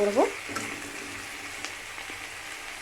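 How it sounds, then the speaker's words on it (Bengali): Chopped green chillies sizzle and fry in a pan with chilli paneer as they are stirred, giving a steady crackling hiss close by with a few scraping knocks of the spoon. "এবার যে কাঁচা লঙ্কাগুলো কেটে রেখেছিলাম ওগুলোও দিয়ে দিলাম, দিয়ে ভালো করে নাড়াচাড়া"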